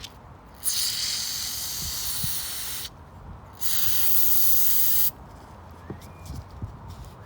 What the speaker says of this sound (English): Spray in all the area.